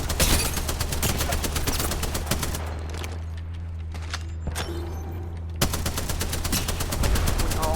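Rapid machine-gun fire in the video game Apex Legends, with long loud bursts of evenly spaced shots at the start and end and a quieter gap with scattered thuds between them.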